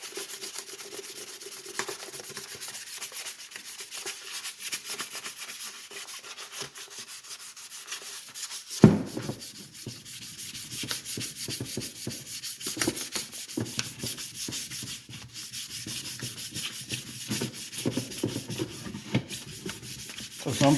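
Fine 1000 grit sandpaper rubs over a Boba Fett helmet in steady, close scratchy strokes that continue for a long stretch, with a brief knock partway through and no talking.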